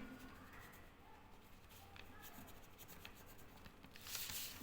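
A pen scratches steadily across paper while answers are written out, making a continuous soft rubbing that swells louder toward the end, with no voices.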